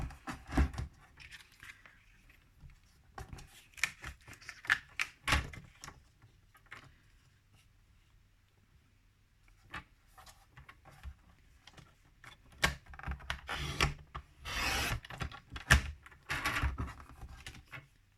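A Hobbycraft paper trimmer slices through paper, with scattered sharp clicks and short scraping strokes as the blade slides and the guide is set, some clustered, some isolated, close and fairly quiet.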